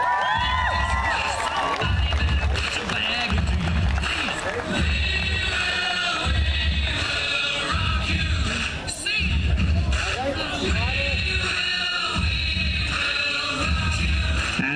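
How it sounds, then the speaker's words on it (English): A crowd cheers and applauds for the national team from India as the teams arrive at WTC 2014. The noise is loud and continuous, with babble and shouting throughout. "Let's give a big round of applause for our team all the way from India."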